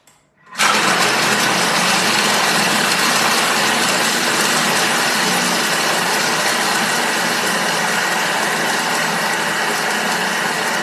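A Thermomix food processor runs at speed 4 for about ten seconds, a loud, steady whirring and grinding of the blade that starts abruptly and holds constant throughout, with no talking.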